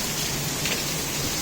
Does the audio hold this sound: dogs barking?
no